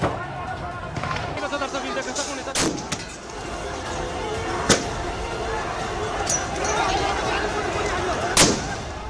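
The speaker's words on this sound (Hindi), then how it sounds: "क्राउड को तितर बितर करने के लिए गोलियां तक चलाई गई।" Sharp gunshot-like cracks from police and army firing to disperse protesters ring out a few times over a noisy crowd and general commotion at a protest in Nepal.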